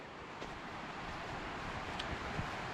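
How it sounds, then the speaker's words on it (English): A river's rapids rush steadily beside the Appalachian Trail, a broad, constant wash of water noise that stays loud and unbroken throughout, with no voices heard. "oh, that river's getting louder."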